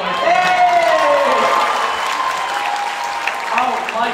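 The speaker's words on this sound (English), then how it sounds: "Here's our applause." Audience applause and cheering after a school drama club performance of A Chorus Line, loud and close, a dense wash of clapping that lasts the whole stretch with voices mixed in.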